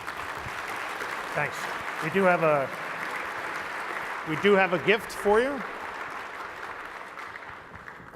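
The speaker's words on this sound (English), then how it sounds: "a round of applause from the audience" A keynote audience applauds in a steady background patter while a person speaks over the clapping.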